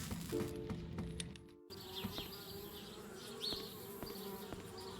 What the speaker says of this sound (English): Darn bees, trying to move into our treehouse.